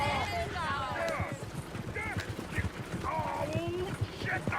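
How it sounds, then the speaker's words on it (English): Horses in Red Dead Redemption 2 clip-clop steadily in a quick rhythm with creaking tack, close and continuous, while game characters talk over them. "Oh, shit, the horses!"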